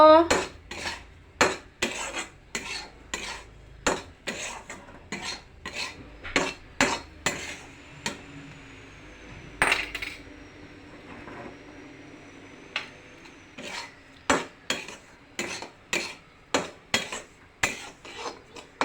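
A spoon scrapes semolina with salt and turmeric around a pan in a regular rhythm of sharp strokes, close and clear. A brief pause comes midway before the steady scraping resumes.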